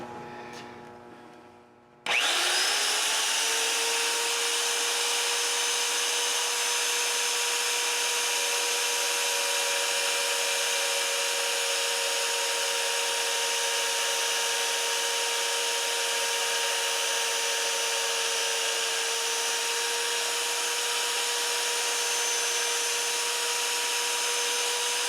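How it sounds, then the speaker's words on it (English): A power drill bores a pilot hole into a Montgomery Ward garden tractor frame during a transaxle swap, with a short stop-start burst and then a loud, steady, high whine that runs unbroken for over twenty seconds. "Got our pilot hole drilled in the other side there"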